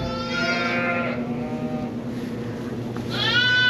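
A sheep in labor bleats loudly nearby, a long wavering call, then after a pause another bleat begins, over a steady low hum.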